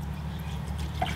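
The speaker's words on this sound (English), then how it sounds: "so what we do now is we fill it up with water." Water being filled into a budget vinyl record cleaner tank fitted with brushes and spindles, a steady low running-water rush with a few drips, close and continuous without talk.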